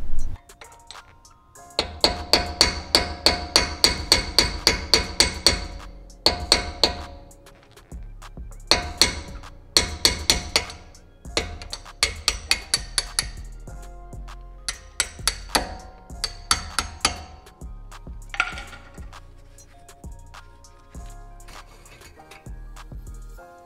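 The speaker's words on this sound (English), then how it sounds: "take a smaller hammer and just tap the back of this to pop it out" Small hammer tapping out the pad retaining pins on a BMW X5/X6M F85/F86 brake caliper: sharp, ringing metallic strikes in quick bursts of repeated taps, close and clear, with short pauses between the volleys.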